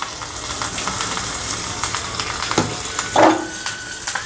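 Cashews, curry leaves and asafoetida frying in hot oil for a tempering, a steady broadband sizzle with a few brief louder crackles and spits near the end, heard alone without talk.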